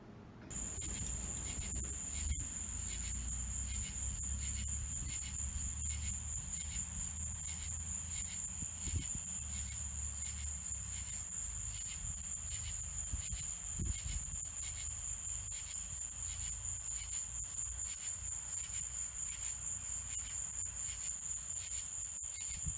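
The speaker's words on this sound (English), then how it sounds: "we got crazy birds in the background, but we're outside here with this periodical cicada" Periodical cicadas drone in a steady, loud, continuous buzz outdoors, with scattered birdsong and a few faint thumps underneath.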